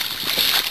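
Small wind-driven waves slosh and lap against a fishing kayak paddled into a north-northeast wind at Arroyo City, giving a brief, close, hissing wash of water.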